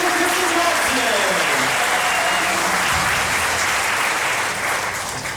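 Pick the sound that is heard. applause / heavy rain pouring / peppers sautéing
applause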